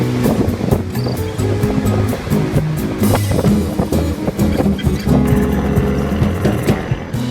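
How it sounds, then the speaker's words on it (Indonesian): A purse seine fishing boat pushes through ocean waves on its way to the fishing grounds. A steady engine drone blends with continuous rushing wash and surf, loud and close, with no talk. "Kapal melaju dan menerjang ombak menuju ke daerah penangkapan ikan."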